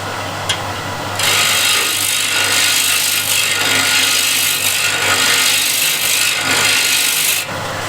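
Standard scraper cutting the side grain of a wooden bowl on a lathe, a steady close rasping scrape that starts abruptly and stops after several seconds, with a low motor hum underneath.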